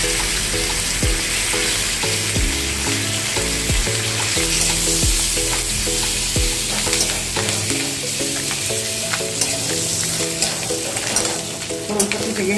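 Curry leaves and panch phoron spices hit hot oil in a pan and sizzle loudly and steadily, a close, continuous frying hiss with occasional stirring clinks and no voices.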